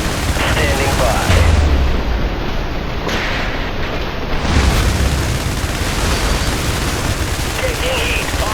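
Artillery support explosions in the video game IS Defense, harbor level: a continuous dense rumble of blasts and gunfire with low booms swelling around two and five seconds, loud and steady throughout.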